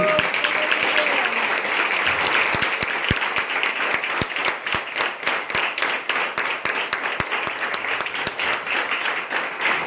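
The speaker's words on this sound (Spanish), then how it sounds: "Dale un aplauso al Rey de Gloria." A church congregation applauds loudly and continuously, the dense clapping swelling and thinning over several seconds with a few distinct sharp claps standing out.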